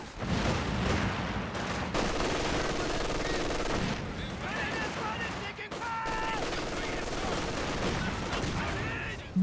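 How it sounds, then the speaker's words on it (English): Rapid machine gun bursts from the video game Company of Heroes 2 join a dense battlefield of gunfire and explosions, with a commentator talking over the continuous din. "Machine gun open up"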